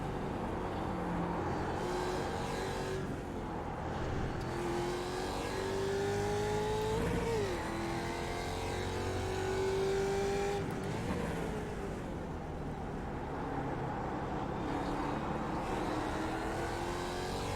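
Ford Mustang race cars rev and run around a tiny track during a 25-minute race, engines rising and falling through gear changes in a steady, distant drone without a break.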